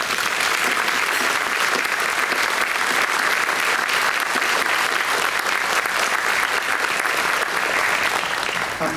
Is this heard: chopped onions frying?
no